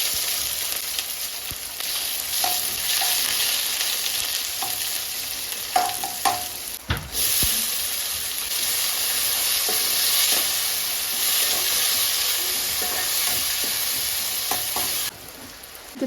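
Onions frying in a pan, a continuous close sizzle with occasional scraping and clinking as they are stirred, steady and unbroken apart from a brief louder stir midway.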